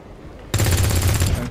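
A soldier in XCOM 2 opens fire, a sudden loud burst of rapid automatic gunfire that starts after a quiet moment and rattles steadily to the end.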